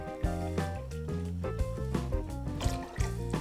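Vodka glugs and splashes as it is poured into a container for a Bloody Mary, an uneven burbling stream lasting a few seconds, close and fairly loud with no talking.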